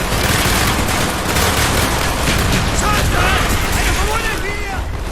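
Heavy battlefield noise in Call of Duty Black Ops, with a mortar firing and exploding amid dense rumbling gunfire, loud and continuous, with shouted voices mixed in.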